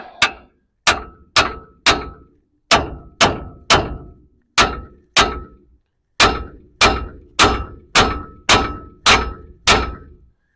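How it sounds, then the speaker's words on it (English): Repeated sharp metallic hammer strikes on a 1968 Kaiser M715 Jeep's front suspension, about twenty evenly paced blows in two runs with a brief pause between, each ringing out briefly. "use the hammer, just get it taken."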